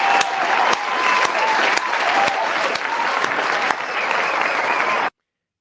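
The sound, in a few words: round of applause sound effect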